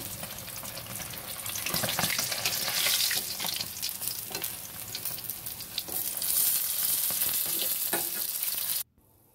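Fish fries in hot oil in a home kitchen, a loud, close, continuous spitting sizzle with crackling bursts that runs almost to the end before cutting off abruptly.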